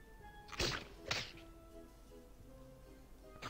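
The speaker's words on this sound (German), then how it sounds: "Okay, Kind, du möchtest sehen, wie die Kanone feuert." A cannon fires in the PC adventure game Monkey Island 3, giving two quick heavy thumps close together, then quiet game ambience.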